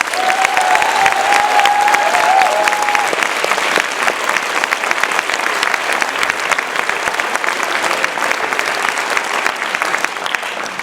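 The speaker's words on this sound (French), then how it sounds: "vous allez les applaudir au fur et à mesure" An audience at a school music concert in Rouen applauds the sound crew, a full room of clapping that stays dense and loud for over ten seconds, with a few whistles early on.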